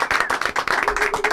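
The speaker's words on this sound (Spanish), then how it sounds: "Un aplauso para ellos." A studio audience briefly claps for two guests on a radio show, a short burst of quick, close applause with no talk over it.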